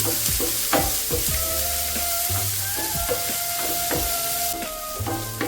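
Shallots with salt sauté in a pan for a Kerala-style chicken roast, a steady loud sizzle broken by repeated rhythmic scrapes of a stirring spoon.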